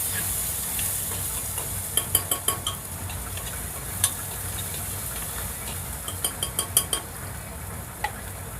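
Chopped onion sizzles steadily in a hot pan as it is sautéed for a vegetable pulao, with scattered clicks and scrapes of a spoon stirring through it.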